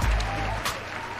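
Applause played from a soundboard during a live talk show, a brief burst of clapping and crowd noise with a low hum beneath it.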